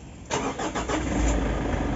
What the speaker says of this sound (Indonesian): Sekarang kita dengar suara mesinnya si Everest.